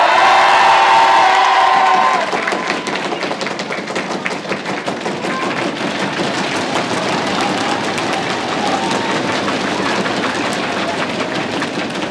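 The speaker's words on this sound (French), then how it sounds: "Merci beaucoup pour vos applaudissements, merci beaucoup pour vos marques d'affection." A large crowd at a political rally in Rouen cheers and claps continuously, a roar of many hands and voices after a brief musical opening.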